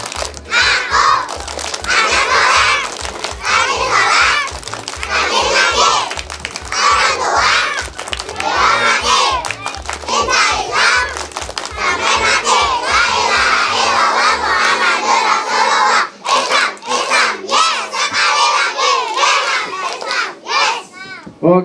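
A crowd of kindergarten children at an Islamic school performance in Pekalongan claps and chants loudly in a steady rhythm for a long stretch, with crisp claps under their shouting voices before it breaks off near the end.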